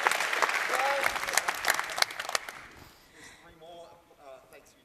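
A conference audience at a Python developer event applauds warmly, the clapping strong at first then fading out halfway, after which people speak over the quiet room.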